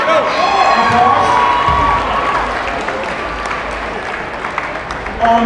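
Crowd applause and cheering in a high school basketball gym for varsity players at Crescenta Valley versus Arcadia, a loud continuous roar with voices and shouts mixed in.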